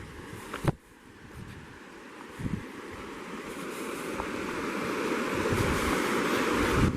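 Water rushing steadily along a small offshoot of the Cispus River, a broad continuous wash that grows slightly louder, with a few brief knocks and bumps near the start and no voices.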